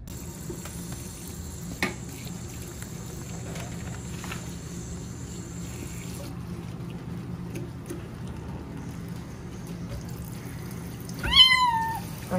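A rescued stray kitten gives a short burst of high, rising meows near the end, over a steady low background hum; no one speaks.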